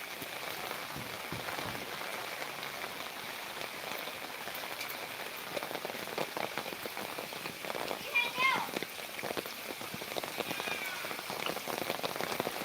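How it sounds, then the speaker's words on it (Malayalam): Steady, dense rain patters on a surface throughout, with faint voices in the background. "നല്ല മഴയാണ്"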